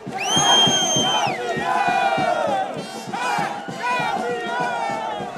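A home football crowd celebrates winning the Série A2 title, loud massed cheering and chanting rising and falling in waves, with voices shouting over the roar.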